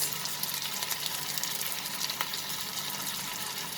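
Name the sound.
dry spices sizzling in hot oil for prawn curry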